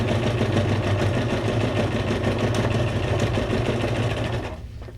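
A sewing machine running a zigzag stitch on junk journal paper ephemera, a loud, close, continuous rapid mechanical whir that holds steady and then winds down in the final half second.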